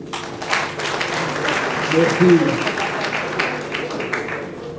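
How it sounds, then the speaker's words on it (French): Audience applause at a formal ceremony, a dense wash of clapping running the whole stretch while someone speaks over it and voices murmur nearby. "On applaudit."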